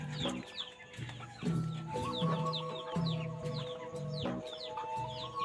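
Domestic chickens kept in a wood-shavings shed, clucking and chirping close by in overlapping bursts, with one rising call cutting through the group.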